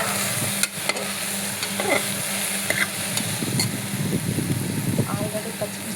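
Okra (bendi), cut into large pieces, fries in a pan for a pressure-cooker okra rice dish, giving a steady close sizzle with occasional stirring scrapes and clinks throughout.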